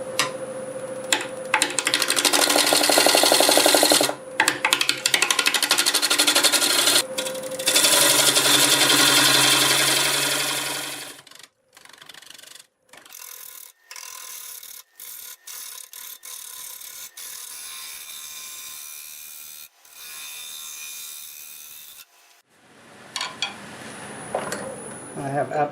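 Fresh-cut English walnut spins on a wood lathe at about 725 RPM as a 5/8 swept back gouge rounds the outside, giving long stretches of loud, rough cutting broken by pauses and short bursts.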